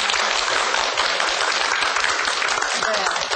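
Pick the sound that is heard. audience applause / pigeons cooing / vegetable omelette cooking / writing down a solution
audience applause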